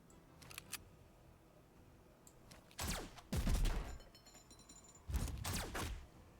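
Hot shot rifle fire in the tabletop-style video game Warpforge: a few quiet early cracks, then three loud, sharp volleys of shots in separate bursts, with faint mechanical clicks between them.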